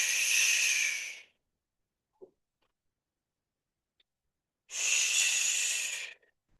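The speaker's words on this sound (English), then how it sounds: "my breathing was loud" Two loud, sustained breathy exhales during a dumbbell and resistance band workout, one at the start and one near the end, separated by near silence with a couple of faint ticks.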